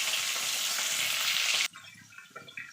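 Cauliflower pieces frying in oil make a loud, close, continuous sizzle that cuts off abruptly partway through, leaving quieter scattered clicks and knocks.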